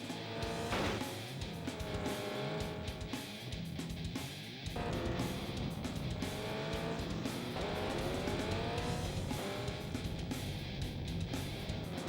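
Racing cars in the 1996 PlayStation game Destruction Derby roar continuously, their engine pitch climbing and dropping as they rev and slide, with occasional tire squeals in a dense, loud mix.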